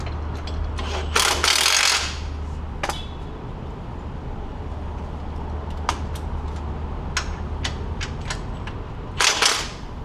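A Milwaukee power tool works on a 2023 Lexus GX460 off-road build, giving sharp clicking and ratcheting bursts with a few brief louder rattling spurts, spaced irregularly over a steady low background hum.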